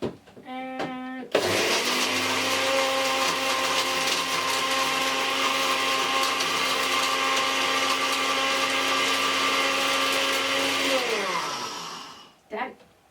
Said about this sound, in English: I'm just gonna use my blender